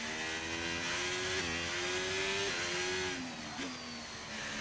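A Porsche Formula 1 car engine in the racing game F1 25 screams at high revs, holding a steady tone before shifting up and down through gears, loud and continuous with a brief dip near the end.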